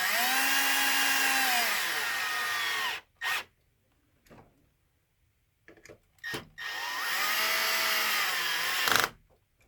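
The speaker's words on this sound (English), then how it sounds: "After you use your drill" A power drill drives screws into protective skid plates on a Losi DBXL-E RC truck, whirring in two long bursts, near and loud, with brief clicks and handling noises in the gap between them.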